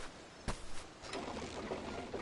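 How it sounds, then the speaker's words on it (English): Water being drawn and drunk from a well in the video game Like a Dragon: Ishin!, a soft splash followed by faint sloshing and trickling, quiet and close, with no talk. "got a drink from the well"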